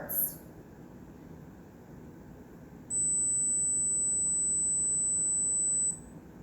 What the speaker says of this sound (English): you should be able to hear a really high-pitched noise